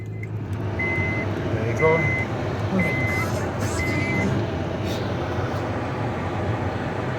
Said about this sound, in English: So I turn on the car.